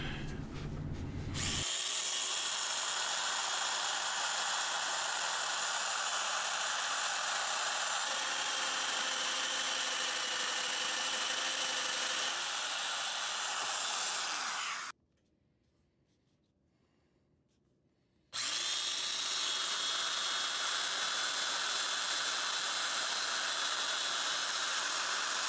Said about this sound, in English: I'm going to get the mortises cut with the domino